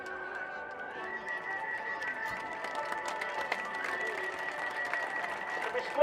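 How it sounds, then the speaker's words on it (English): A crowd claps steadily at the Blackpool airshow, sustained scattered applause heard from a distance under a steady tonal engine hum. "Big round of applause."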